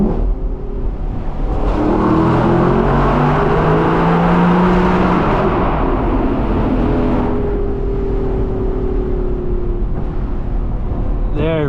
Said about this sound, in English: This engine is just fantastic, especially on the rev limiter.